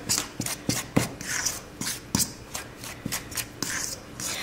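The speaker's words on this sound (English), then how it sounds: "I'm just going to grind that up in there, mix it all together." Pie crust ingredients being ground and mixed together in a bowl by hand, giving a series of close, rough scraping and rubbing strokes with light knocks in an uneven rhythm and no talking.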